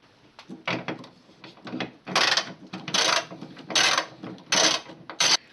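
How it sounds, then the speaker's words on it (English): A ratchet wrench backs off 10mm nuts holding a rear wiper motor to the tailgate of a VW Golf, several bursts of quick clicking with short pauses between them, close and fairly loud. "remove these three 10mm nuts holding the motor to the tailgate"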